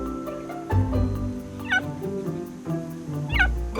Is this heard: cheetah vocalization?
yes